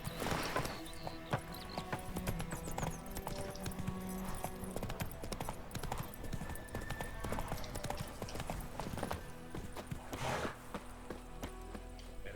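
The horse Roach gallops in The Witcher 3: Wild Hunt video game, steady rapid hoofbeats pounding on and on alongside a brief snort, all set against a dense, noisy game soundscape.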